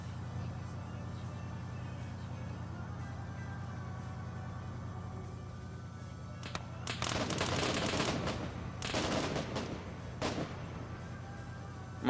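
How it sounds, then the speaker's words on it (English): Machine gun fire in the Arma 3 combat game: a low rumbling background breaks into several loud, rapid bursts of automatic fire with short gaps between them, with a faint voice present. "Some machine gun fire going Zope's way here."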